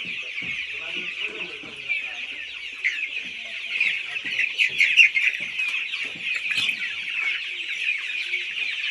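Chickens at a poultry sale that also offers ducks, quail and guinea fowl keep up dense, overlapping clucking and squawks, close and busy, without pause for the whole stretch.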